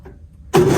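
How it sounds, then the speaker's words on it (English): Side-by-side UTV engine cranking briefly, then catching and starting abruptly into a loud, close idle roar with its choke pulled out. "let's see if Marie can start this side by side"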